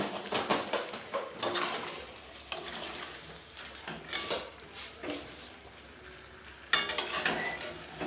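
Chicken sautéing in a pan for a Bengali red chicken curry, with soft sizzling, a spatula scraping and clinking against the pot in irregular strokes, fairly quiet and close, no talking.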